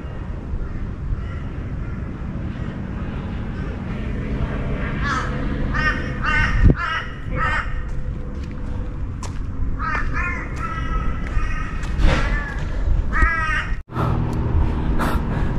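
A crow perched on a power line caws repeatedly in scattered bursts over steady outdoor background noise in Australia, some calls louder and closer, others fainter.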